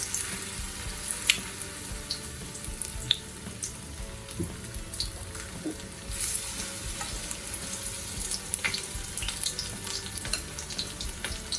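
Green tomato fritters frying in oil, giving a steady close sizzle with scattered pops and crackles throughout and no talking.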